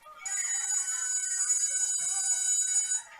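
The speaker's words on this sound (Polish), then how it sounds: "O, jest dzwonek." An electric school bell rings steadily for about three seconds, a bright continuous metallic trill that starts and stops abruptly, heard alone at moderate distance.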